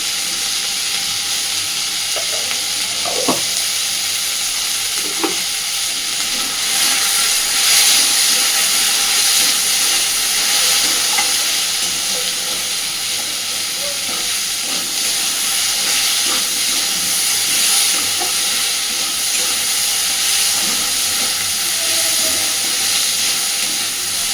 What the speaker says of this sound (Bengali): আমি বেশ সুন্দর করে আলু পেঁয়াজটাকে একটু ভেজে নিয়েছি